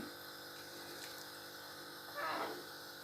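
Soaked rice is poured into a pot of boiling water, giving a brief, louder splashing rush late in the clip over a steady bubbling hiss.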